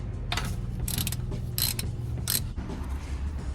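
A ratchet loosens the sump nut on a Renault Clio 3 1.2 TCe during an oil change, giving a few short bursts of sharp metallic clicking over a steady low background hum, close by, with no voices.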